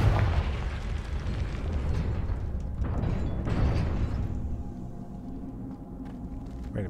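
A Confringo fire-blast spell from Hogwarts Legacy erupts in a dense, roaring explosive burst that fills the whole clip, loud and sustained, with rumbling low end and crackling debris, and no talk over it.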